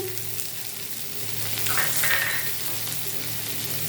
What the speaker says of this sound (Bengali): 1 ইঞ্চির মতো আদা, আর একটু টমেটো দিয়ে এগুলোকে ভালো করে ভেজে নেব।